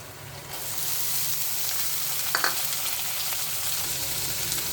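Onion and green chili sizzle steadily in hot oil as cucumber pieces go into the pan, a dense, even frying hiss with one brief clatter partway through.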